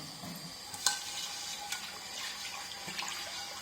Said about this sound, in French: J'utilise un peu d'eau chaude pour pouvoir laver la marmite.